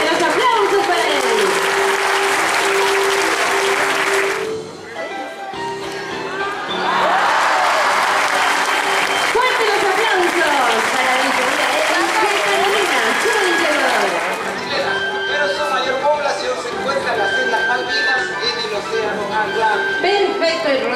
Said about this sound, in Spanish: igual que los aplausos para él.